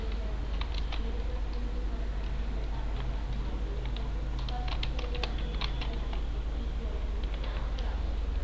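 Fingers tap at a computer keyboard while entering a cash journal in SAP accounting software, in irregular bursts of quick clicks over a low steady hum.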